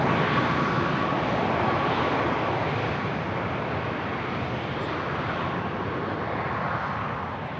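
A large jet engine roars steadily and loudly at Toronto Pearson airport, a broad continuous rumble that holds for several seconds without speech.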